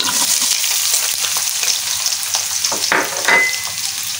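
Cut potatoes drop into hot spiced oil and fry with a loud, steady sizzle, broken by a few scraping stirs and clinks from a spatula against the pan, with no voices.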